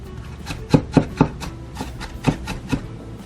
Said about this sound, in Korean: 건표고버섯은 최대한 좀 잘게 썰어주세요.